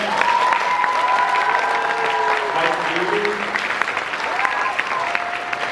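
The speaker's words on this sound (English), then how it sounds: "Please give a big round of applause for Phil Falcone" A convention crowd at Monster-Mania in Hunt Valley applauds the Terrifier 2 guests, steady clapping under an amplified announcer reading out names over the noise.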